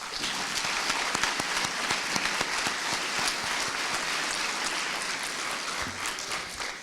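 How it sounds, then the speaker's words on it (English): An awards-event audience of parents, families, friends and teachers applauds, a dense sustained wash of many hands clapping with scattered sharper claps, steady and fairly loud throughout. "please give yourselves a big round of applause."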